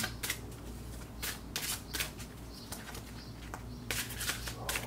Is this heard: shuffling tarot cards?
yes